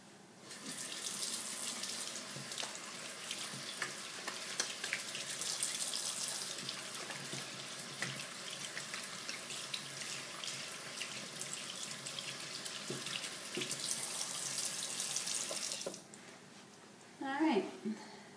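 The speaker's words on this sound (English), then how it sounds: "let me just wash my hands here" A tap runs steadily into a sink while hands are washed in a clinical room, a continuous hissing water rush that stops abruptly near the end, followed by a brief voice.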